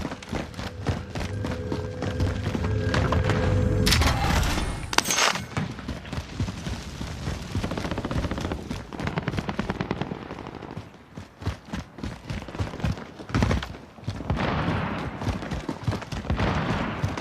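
Gunfire in a video game Gulag fight: rapid bursts of shots and clattering action crowd a busy mix, loud and dense, with some sharper bursts late on.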